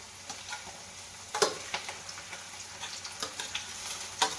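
Chopped onions and tomatoes fry and get stirred in a pan for ragda chaat, giving a soft, continuous sizzle broken by scattered scraping clicks of a spoon, close but fairly quiet.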